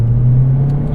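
A 2013 Mazdaspeed 3 engine runs under light throttle, a loud, steady low drone heard from inside the car, with a faint hiss near the end and no talk.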